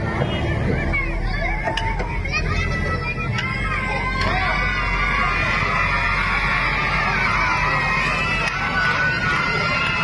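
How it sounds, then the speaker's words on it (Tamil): A crowd cheers and shouts loudly and continuously at a silambam martial arts stick-fighting display by students, with children's voices and babble mixed in throughout. "உங்களுக்கு ஆரவாரம் அதிகமா இருக்கு"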